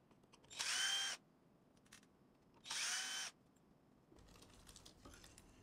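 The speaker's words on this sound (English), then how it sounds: "Remove 3 screws from each side, then carefully separate the 2 side covers of the cartridge." A small powered screwdriver backs screws out of an HP laser toner cartridge, with two short whirring bursts close by, followed by faint tapping and plastic handling sounds.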